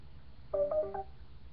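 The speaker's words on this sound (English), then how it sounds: "Sorry, my phone is ringing" A phone ringtone sounds faintly in a quiet room: a short run of bright melodic tones, heard once and then stopping.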